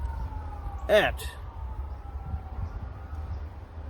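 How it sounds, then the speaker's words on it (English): Ambulance siren passing outside, heard as a brief wailing sweep around the middle of the clip over a low background rumble, with people talking indoors. "Sounds like an ambulance."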